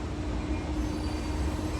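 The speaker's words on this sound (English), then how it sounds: "2 freights moving" Two freight trains roll along the tracks at once, giving a continuous loud rumble with steady wheel and car noise throughout and no speech over it.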